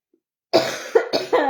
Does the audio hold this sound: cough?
yes